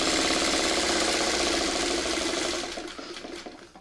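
A sewing machine stitches quilt pieces for a pineapple block with a fast, loud, even motor whir and needle chatter, close by, slowing and fading out over the last second.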